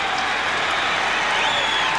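A baseball stadium crowd at a Braves–Mets night game cheers and applauds, a steady roar of distant clapping and shouting with a commentator's voice faintly over it.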